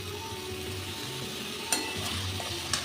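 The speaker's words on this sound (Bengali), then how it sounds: "পনিরটা দিয়েও আর একটু আমি ভাজা ভাজা করে নেব" Grated paneer and pointed gourd fry in oil with a continuous soft sizzle, while a utensil stirs the pan and makes two sharp scrapes or taps against it.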